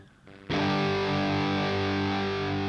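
Electric guitar played through the high-gain preset of an Enya Inspire guitar, a thick distorted sustained chord that bursts in loud after a brief quiet moment and rings on steadily.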